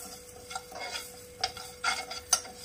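Black cardamom pods and whole coriander seeds dry roasted over low heat in a pan, giving a quiet run of faint scrapes and taps as the spices are stirred and shifted, with a few sharper clinks near the end.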